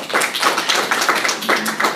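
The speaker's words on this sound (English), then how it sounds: "Now there was enthusiastic applause, wasn't it?" Enthusiastic audience applause at a talk on earned income strategies, a dense steady patter of many hands clapping together, loud and close, with no voices over it.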